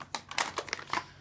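Anti-static plastic bag holding a GTX 780 Ti Hall of Fame graphics card, crinkling in a run of quick, close rustles and crackles as it is handled.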